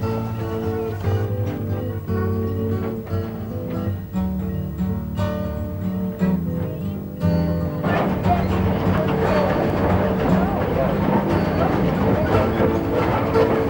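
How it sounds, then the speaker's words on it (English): A train on the Elbe to Mineral Lake railroad rolls along its tracks, with rhythmic rail clicks over a low tonal drone that swells into a louder, denser rumble of moving cars. "the clickety-clack of the tracks, the creaking of the cars"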